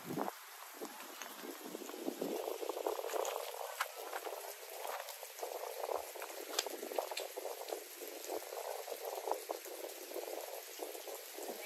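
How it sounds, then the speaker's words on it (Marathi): Constant fast dripping and trickling meltwater patters nearby inside an ice cave in Washington, USA, a busy, bubbling wet texture that continues evenly throughout with no talking. "पाणी हे वितळतंय, पाणी खाली पडतंय"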